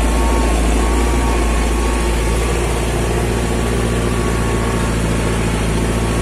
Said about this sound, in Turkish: Traktör canavar ya, gidiyor.